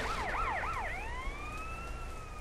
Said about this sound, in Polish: Oho, przejechała mnie straż pożarna